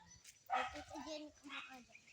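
A small dog, likely a puppy, gives a few short yips and whimpers close by, mixed in with quiet talk.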